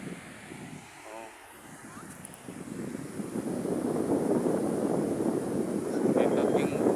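Steady wind blowing across a bay shore, a broad rushing noise that builds and stays loud toward the end, with faint voices in the background.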